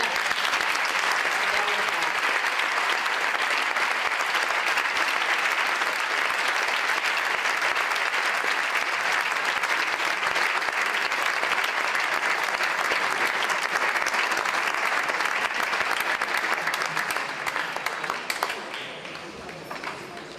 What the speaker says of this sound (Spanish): podemos aplaudirlo ya